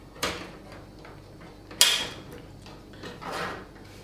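A computer case door being opened gives a sharp click, then a louder latch snap and a softer swinging rustle, all close by with no talk.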